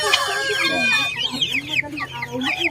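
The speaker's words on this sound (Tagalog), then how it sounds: "Male frizzle chicken." A male frizzle chicken in a backyard flock gives quick, close clucks and short raspy calls, with other chicken sounds mixed in over a few seconds.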